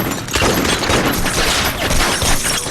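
Heavy, sustained gunfire in the video game Gangstar Vegas, a dense, loud barrage of overlapping shots that runs continuously without pause.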